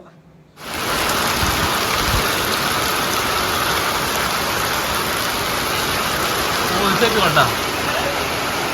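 Heavy rain pours down steadily on a Vishu festival day in Kerala, starting abruptly and then holding as a loud, unbroken hiss of drops close by.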